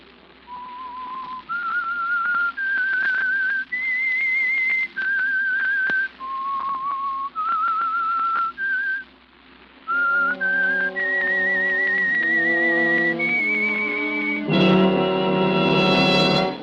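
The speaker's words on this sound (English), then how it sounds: "That whistle is your signal for the Signal Oil program, The Whistler." A whistled theme signal for The Whistler radio program, sponsored by Signal Oil: a clear, melodic tune in rising and falling phrases whistled alone, with instrumental accompaniment joining partway and swelling loudly at the end.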